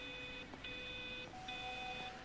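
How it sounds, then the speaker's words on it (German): Electronic telephone ringing in the video game Everybody's Gone to the Rapture, heard as repeated bright trilling bursts with short gaps between them, moderately faint over a steady low ambient background. "Und ich höre ein Telefon."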